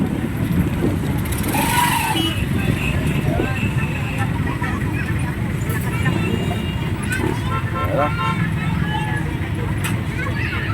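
Busy road traffic rumbles steadily close by, with cars, motorcycles and trucks passing continuously while people talk over it.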